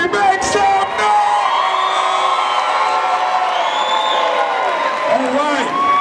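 A live audience at a lecture event in St. Louis, Missouri cheers, whoops and yells in a loud, sustained crowd roar lasting throughout, with scattered applause and shouts and no clear speech.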